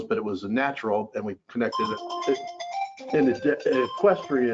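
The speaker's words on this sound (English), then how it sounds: "Sorry, that's my phone." A phone ringtone chimes in sustained melodic tones during a county meeting, moderately clear, under and between steady talk from someone speaking.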